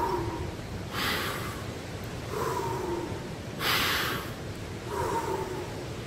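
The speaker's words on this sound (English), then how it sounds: "Take a deep breath right now," Three slow, deep breaths, each a soft airy hiss drawn in and released at an even pace, close and quiet, with a fainter fourth breath trailing at the end.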